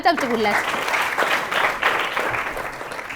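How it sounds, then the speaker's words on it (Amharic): Brief burst of applause from a small group, clapping steadily for about three seconds after a short spoken phrase at the start. "እሺ አጨብጭቡለት።"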